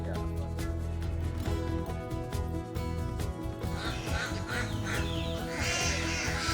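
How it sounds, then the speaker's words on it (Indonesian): Ducks from a flock of hundreds on a village farm in Kungkai Baru, Seluma, Bengkulu quack repeatedly in short, nasal calls under a continuous, busy background. "merawat ratusan bebek"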